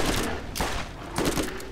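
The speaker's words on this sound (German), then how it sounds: "Der ist so geil, der Revolver." A few loud revolver shots in the video game Borderlands, two or three separated cracks ringing out over a steady background of game noise.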